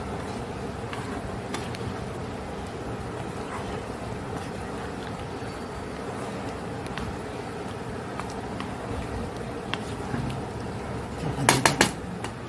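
A spoon stirs taro curry with ghee in a pan, giving soft, irregular scrapes and light clinks under a low kitchen hum, ending in a few sharp metallic taps near the end.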